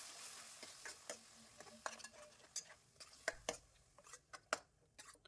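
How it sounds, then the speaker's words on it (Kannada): Tempering being stirred into a tomato and coriander leaf chutney in a pan, with repeated scraping clinks of a spoon against metal over a faint sizzle, close and moderately quiet. "ಒಗ್ಗರಣೆ ಎಲ್ಲ ಚಟ್ನಿಗೆ ಮಿಕ್ಸ್ ಆಗೋ ರೀತಿ ಕಲಿಸ್ಕೊಳ್ಳೋಣ"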